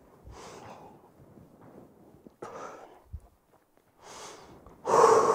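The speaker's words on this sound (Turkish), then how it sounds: "Derin nefes al, ver. Burundan al. Ağızdan ver." A person exercising takes deep breaths in through the nose and out through the mouth during a rest break, with soft close inhales and exhales separated by pauses and one louder forceful exhale at the end.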